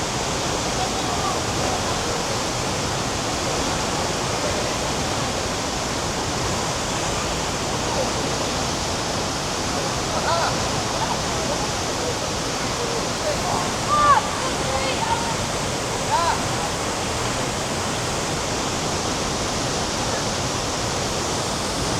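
Tegenungan Waterfall in Ubud pouring down at high speed, a loud, dense, unbroken roar of falling water filling the whole stretch with no pauses.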